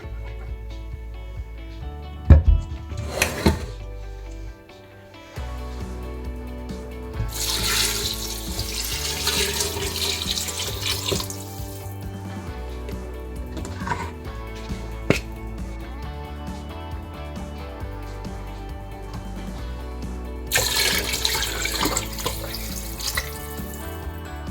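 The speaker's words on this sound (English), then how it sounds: "Now let's pour in the water." Water poured from a container into a soup pot for homemade vegetable cream soup, 4 liters in all, a steady broad splashing rush that comes in a couple of bursts over background music.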